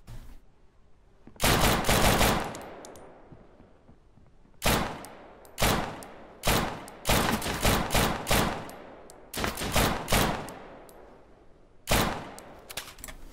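Repeated bursts of loud, close gunfire in a video game, arriving in sharp separate volleys of varying length with short gaps between them, and no talk over it.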